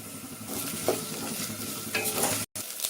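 Onions frying with ginger-garlic paste in a pan for a spinach chapati and chickpea curry, a steady close sizzle with stirring scrapes, one brief dropout near the end.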